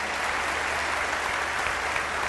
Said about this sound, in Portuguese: E um aplauso para Uruguai.